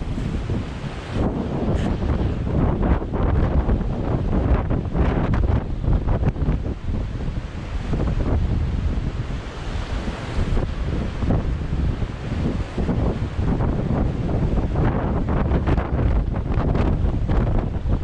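Water pours over the spillway of Swinsty reservoir, a dense, steady roar that stays loud and close for the whole stretch, with gusty wind buffeting the microphone and no one talking.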